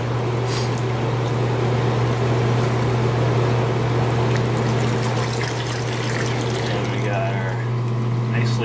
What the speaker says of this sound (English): What I'm doing now is the jets are cleaning out the surface of the water for me.